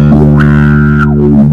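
A single sustained bass guitar note sweeps through a wah pedal without overdrive, the tone opening and closing smoothly, clean and undistorted.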